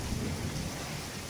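Steady heavy rain pours down with a low, rolling rumble of thunder beneath it during a windy storm with lightning, a dense continuous wash of storm noise with no voices.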